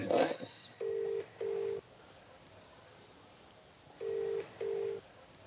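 Telephone dialing tones followed by ringback, two pairs of steady beeps near the start and two more later, loud and clear over a quiet room with brief faint talk at the very beginning.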